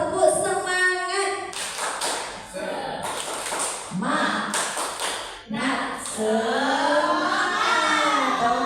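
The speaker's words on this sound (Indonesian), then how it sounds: "Kita tepuk semangat dulu" A group of teachers and students at a junior high school event does the rhythmic 'tepuk semangat' spirit clap: bursts of sharp, patterned claps alternating with chanted voices in a lively call-and-response.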